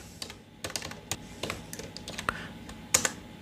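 Keys tapped on a computer keyboard while an SQL query is typed into an Oracle database tool, irregular close clicks at a moderate pace with a couple of sharper strokes near the end, no voices.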